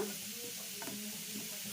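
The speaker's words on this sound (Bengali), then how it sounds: "ঘি দিয়ে গাজরটা ভাজছি" Carrots frying in ghee for gajar halwa give a faint, steady sizzle with light stirring scrapes, with no talk over it.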